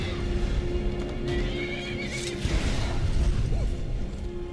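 A horse in Skyrim whinnies and snorts amid clip-clopping hooves and busy game ambience, loud and near throughout.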